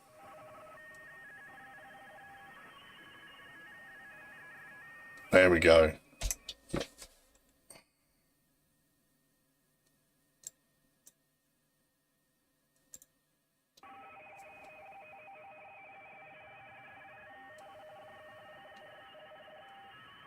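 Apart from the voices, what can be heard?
radio teletype signal on 80m amateur radio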